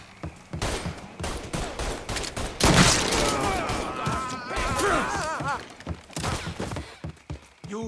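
Gunfire in Mafia III: rapid bursts and single shots crack out close and loud in irregular volleys, with shouting voices and groans between them.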